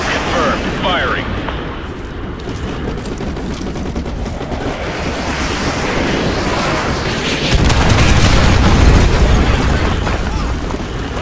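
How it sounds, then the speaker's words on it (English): Artillery strike explosions in Call of Duty Modern Warfare 2 Remastered, a dense rumbling barrage of blasts and debris that swells louder toward the end, with voices speaking over the battle noise. "Fire mission received. Artillery inbound."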